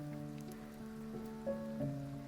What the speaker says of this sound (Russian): Так аппетитно шипит масло.